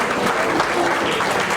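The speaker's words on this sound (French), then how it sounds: "Applaudissez s'il vous plaît." An audience at a memorial tribute gathering breaks into steady, dense applause, many hands clapping together at even loudness through the brief moment.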